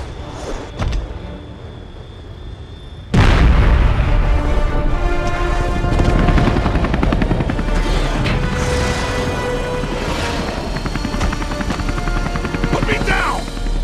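Helicopter in the video game Spider-Man 3 cuts in abruptly after a quieter stretch, then its loud, steady rotor chop fills the rest, with game voices speaking over it.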